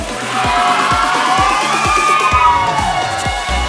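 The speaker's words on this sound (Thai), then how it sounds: "ตะโกนชื่อคนชนะหนึ่งสองสาม" A wedding after-party crowd shouts and cheers loudly together during a party game, a dense burst of overlapping voices and whoops with no pause.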